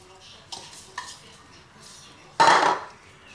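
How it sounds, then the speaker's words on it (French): Chocolate salami mixture with crushed biscuits being stirred in a bowl: a few soft scraping clinks of a spoon, then one louder burst of scraping and knocking near the end, close and alone. "Vous remuez bien."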